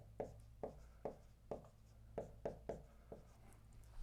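A pen scratches out a math problem by hand in quick, separate strokes, about nine short scribbling bursts at an uneven rhythm, close and faint in a quiet room.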